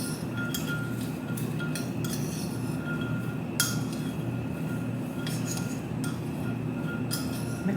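A spoon clinks against a bowl while walnuts and brown sugar are stirred together, giving light, irregular metallic taps over a steady background hum.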